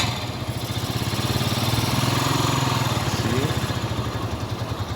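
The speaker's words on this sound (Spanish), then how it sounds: "por fin tengo mi motocicleta. Este es el sonido" A motorcycle engine, newly repaired and restarted, runs steadily nearby with an even, rapid putter and mechanical clatter, holding a constant idle-like rhythm throughout without voices.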